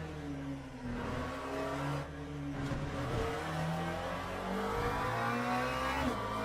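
A 2025 GT3 race car engine in the Le Mans Ultimate sim game, revving up and down through gear changes with rising and falling whine, moderately loud and steady, without talk.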